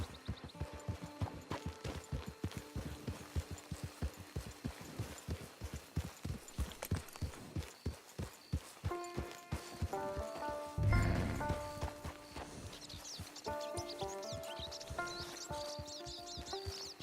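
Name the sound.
horse walking in video game Red Dead Online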